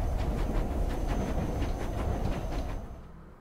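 Train ride in the Nancy Drew game The Silent Spy: a steady rumbling carriage with rhythmic clickety-clack of wheels over rail joints, continuous and moderately loud before fading out near the end.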